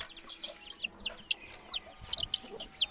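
Young chicks of red and dodia poultry in a coop give repeated high, thin peeps in quick, irregular bursts, with a few soft lower clucks underneath and no speech.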